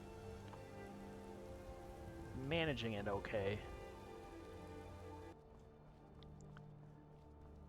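Rain falling in the video game Skyrim, a soft steady patter under a voice talking, with the wash dropping away abruptly near the end.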